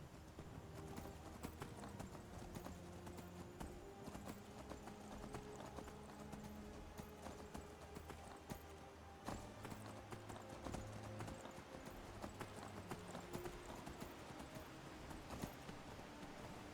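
Horse hooves clip-clopping steadily in Skyrim, a continuous moderately loud walking rhythm heard alone.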